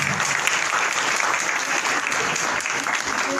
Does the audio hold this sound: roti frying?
no